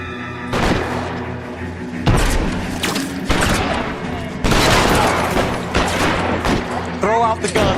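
Heavy gunfire during a police shootout in the video game L.A. Noire, with loud, dense bursts of shots and booming impacts crowding together over several seconds and some shouted voices mixed in.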